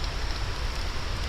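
Heavy rain falls steadily in the hills near Courtallam, a dense, even hiss of drops from start to finish with no voices.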